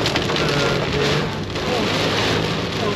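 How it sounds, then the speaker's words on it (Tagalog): Heavy rain pours steadily in Tagaytay, a loud, dense continuous hiss of drops striking surfaces with no pauses, close and enveloping throughout. "Grabe, lalong lumakas yung ulan."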